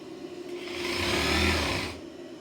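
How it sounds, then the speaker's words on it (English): Sewing machine running steadily as it stitches taut fabric, a smooth continuous whir that swells and fades over about two seconds, close and alone with no talk. "As we're stitching, we are not pulling the fabric through. We are simply keeping it taut and allowing the machine to set the speed."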